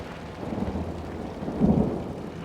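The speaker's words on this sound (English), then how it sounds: "As the tub filled, the storm intensified." A thunderstorm growing more intense, with a low continuous rumble of thunder under steady rain that swells into a louder roll near the end.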